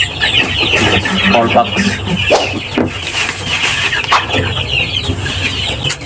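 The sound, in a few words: chickens clucking at night during vaccination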